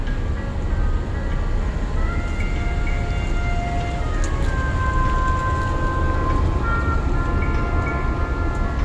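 A Union Pacific freight train with a Canadian Pacific distributed power unit rolls past at a crossing in Grover, North Carolina, a continuous loud rumble with steady wheel and rail squeal.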